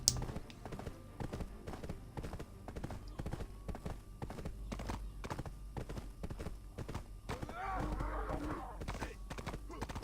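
Horse hooves in the video game Black Desert clop in a steady, rapid rhythm throughout, moderately close under a constant game background, with a brief rougher burst near the end that may be a whinny.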